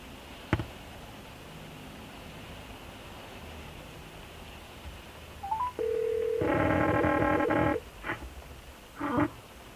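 A quiet, steady hum, then electronic call tones from a Nulaxy Bluetooth transmitter in a car: a short beep and a flat tone, followed by a long buzzy ringing burst and two brief repeats.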